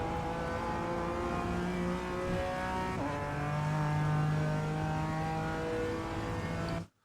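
BMW M4 G82 GT4 race car in iRacing at Circuit Zolder, its engine holding a loud, steady high-revving drone under sustained throttle that climbs in pitch, dips briefly near the middle and then rises again before cutting off abruptly.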